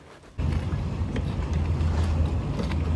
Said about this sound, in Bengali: ভেনিসের জলপথে স্পিডবোট, গন্ডোলা ইত্যাদি জলযানের যাওয়া আসার দৃশ্য দেখতে বেশ লাগছে।